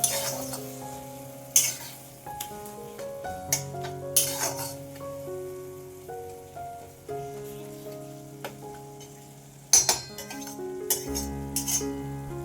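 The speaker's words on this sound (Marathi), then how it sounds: "आता हे छान आपण हलवून घेऊया" Goda masala being stirred with oil in a pan for a quick tomato chutney: close spoon scrapes and light clinks against the pan over a soft, steady sizzle, with uneven strokes.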